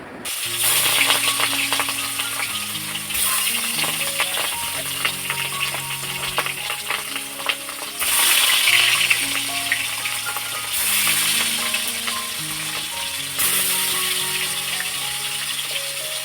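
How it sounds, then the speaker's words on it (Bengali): Fish frying in a pan in a Bengali home kitchen, a steady close sizzle running the full length with brief louder surges, layered over sustained tonal background sound. "মাছগুলো ভেজে নিই তারপরে মাছের ঝোলটা রান্না করে নিই"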